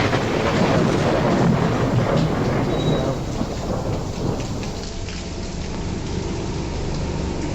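Heavy rain pours steadily and loudly, a dense roar with deep rumbling, easing slightly partway through but continuing without pause.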